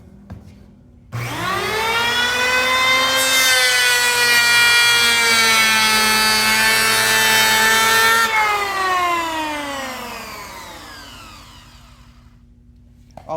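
A handheld electric planer for 6-inch jointing work runs up to a steady, loud, high whine for several seconds, then is switched off and spins down slowly with a falling pitch, no one speaking over it.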